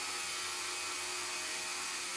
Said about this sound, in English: So we'll go ahead and turn our Dremel on here.